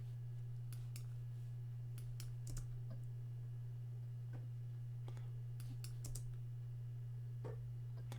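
Computer mouse and keyboard clicks from someone editing a video, with scattered, light, close ticks and taps at irregular intervals over a steady low electrical hum.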